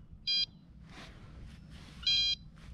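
An electronic fishing bite alarm on a carp rod beeps twice by a pond, two short high tones about two seconds apart over quiet outdoor ambience.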